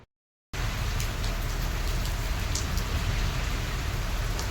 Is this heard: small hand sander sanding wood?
no